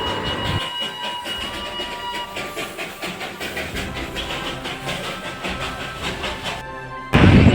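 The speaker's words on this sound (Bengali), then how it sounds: "দার্জিলিংয়ে এরভাবে টয় ট্রেন দেখলাম সামনেই পাশেই টয় ট্রেন" Rumbling narrow-gauge toy train passing close by in Darjeeling, with dense clattering wheels and steady mechanical noise, ending in a sudden louder burst of rushing noise.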